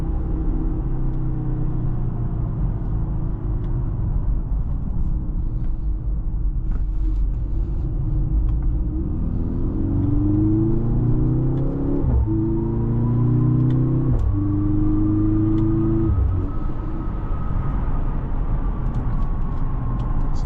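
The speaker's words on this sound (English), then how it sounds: "it is a 4-cylinder and a lot of this noise is just synthesized and pumped into the cabin" Mercedes-AMG GLC 43 four-cylinder accelerating from inside the cabin, a steady engine drone and exhaust note partly synthesized into the cabin, rising through several stepped gear changes before settling into a higher, smoother tone.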